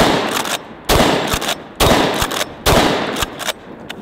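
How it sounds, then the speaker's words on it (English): A Benelli shotgun fires four loud shots at a steady pace, each blast sharp and close with a short decaying tail before the next. "All right, let's shoot the Benelli."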